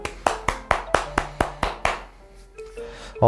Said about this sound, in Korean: 수고하신 모든 분들께 박수하도록 하겠습니다